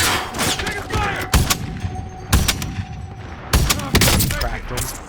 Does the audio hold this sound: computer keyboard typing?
no